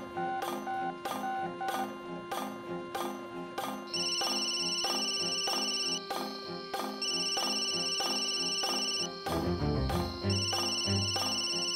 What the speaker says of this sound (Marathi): शोभाचा फोन